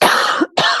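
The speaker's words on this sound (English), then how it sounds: "We're both coughing." A single sharp cough followed by a shorter second one, close and loud, with no speech.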